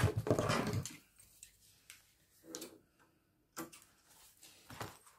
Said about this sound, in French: Je coupe mes fils.